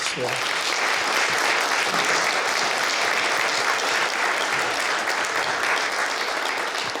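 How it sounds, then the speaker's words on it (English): An audience at a town candidates night gives the candidates a round of applause, with loud, dense clapping that stays steady and unbroken from start to finish. "I think we owe them a round of applause"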